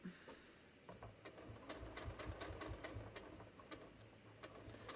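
A sewing machine stitches denim jeans in a rapid, even run of mechanical ticks, quiet and close, with no talk over it.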